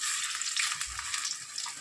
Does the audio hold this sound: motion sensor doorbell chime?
no